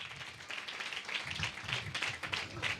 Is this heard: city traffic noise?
no